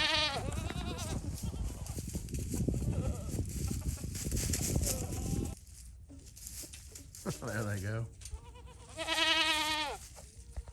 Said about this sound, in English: Look at those goats over there bouncing.